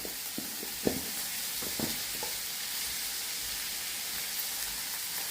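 Peas and onion frying in a pan for matar palak sabji, a steady bright sizzle with a few soft scraping stirs early on, close and continuous, no talk.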